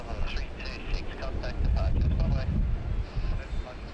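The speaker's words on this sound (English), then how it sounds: "another absolutely amazing sounding takeoff." Airliner engines roar during takeoff at Sydney Airport, a broad, rumbling wash of jet noise heard from a distance, steady and windy-sounding with occasional swells.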